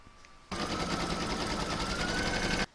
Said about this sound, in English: I'm going to pop this back into my machine and I'm going to stitch round number 6